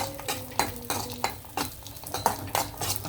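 Sabudana frying in ghee over a medium flame, stirred steadily: rhythmic scraping strokes of a spoon against the pan come about every third of a second over a soft sizzle, close and clear with no speech.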